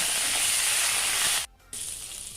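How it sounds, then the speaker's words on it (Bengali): Pieces of pointed gourd frying in hot mustard oil in a wok give a dense, steady sizzle with a brief dip partway through, close and alone. "এখন এই তেলের মধ্যে ছেড়ে দেবো পটল। পটলগুলো হালকা লাল করে ভেজে নেব।"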